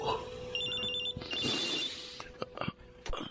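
A cellphone rings with a repeating electronic tone in a quiet indoor drama scene, a few bursts of ringing followed by soft rustling and knocks.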